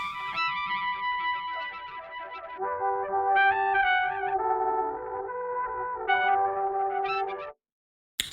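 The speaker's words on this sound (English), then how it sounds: "And after putting phase distortion on, it sounds like this." A synth with phase distortion plays a buzzy, harmonic-rich line of shifting sustained notes, loud and alone, ending abruptly in silence.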